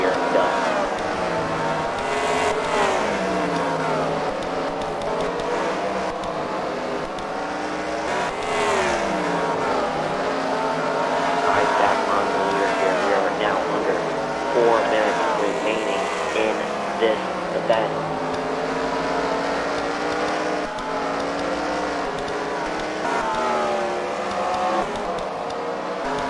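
Race cars lap a track at the Freedom Factory during a CWRL fight night main event. Engines drone loud and continuous with rising and falling pitch sweeps as cars pass, while a commentator talks throughout.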